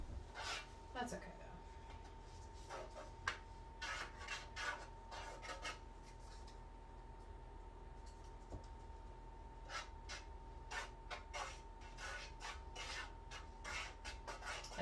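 A utensil scrapes against a pan while corn is cut, producing repeated short rasping strokes in irregular bursts, close and fairly faint, with a steady hum underneath.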